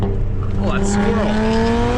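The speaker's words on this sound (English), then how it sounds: "Squealing front tire the whole way." Car front tire squealing through curves on the Tail of the Dragon mountain road: a steady high whine over engine drone, with a voice talking over it.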